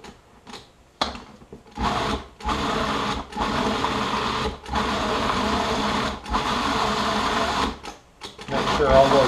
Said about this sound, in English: when we put this in the processor, we're going to want to go ahead and puree this real well